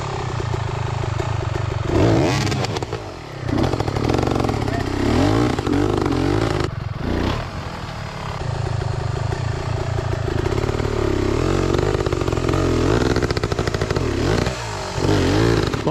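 An enduro motorcycle rides over slippery off-camber logs on a trail, its engine revving and labouring loudly nearby, with clattering and scraping as it climbs.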